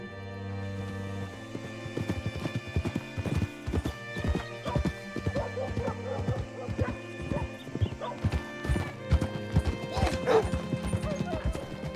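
A horse's hooves clip-clop in steady rhythm on a town street in Red Dead Redemption 2, close and prominent, with a whinny, background music and voices talking.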